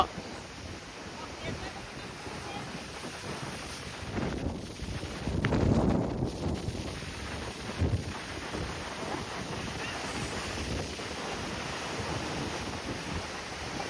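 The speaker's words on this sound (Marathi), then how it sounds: "कसली लाटा असत बघा, खतरनाक." Rough monsoon sea with crashing waves and strong wind buffeting the microphone, a steady roar that swells into a louder surge near the middle, with no talk.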